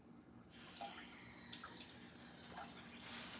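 A kitchen tap runs a little water while someone prepares a grilled cheese sandwich, a soft steady hiss with faint splashes and drips, quiet and close.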